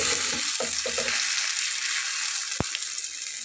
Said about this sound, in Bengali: তো প্যানটা গরম হয়ে গেছে, এখন আমি ডিমটা ঠিক চপ যেভাবে আমরা ভেজে নিই ওভাবে দিয়ে ভেজে নেব।